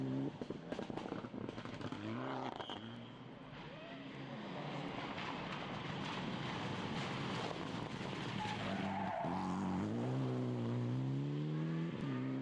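A Mitsubishi rally car at the Rallye du Condroz 2011 drives along a stage, its engine revving and changing pitch as it passes, with a steady broadband roar that swells toward the end.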